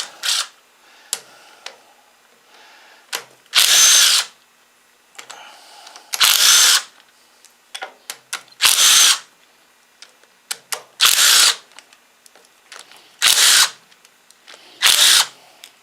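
A power tool works on the transaxle shifter cover bolts of a Cub Cadet pulling tractor, giving six or seven loud short whirring bursts spaced a couple of seconds apart, with quiet clinks and handling noises in between.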